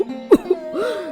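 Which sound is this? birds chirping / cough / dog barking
cough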